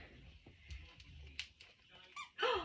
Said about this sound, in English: It does still squeak.